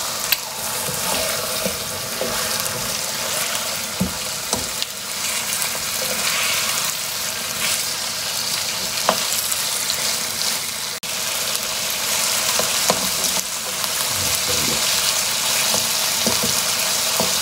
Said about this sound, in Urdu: چکن کو اچھی طرح فرائی کریں اچھی طرح بھون لیں دو تین منٹ کے لیے جیسے یہ میں کر رہا ہوں